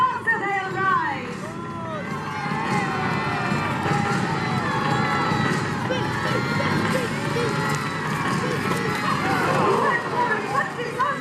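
Jousting horses galloping past at a castle tournament, with pounding hooves under a cheering, chattering outdoor crowd and a voice speaking loudly over the steady din.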